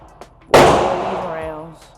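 A single loud gunshot from an MP5 clone rings out close by, with a sharp crack that decays over more than a second of echo.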